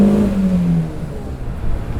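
A 1996 Alfa Romeo 916 Spider with a twin spark engine drones loudly and close, its engine note falling off as revs drop, followed by a steady lower rumble.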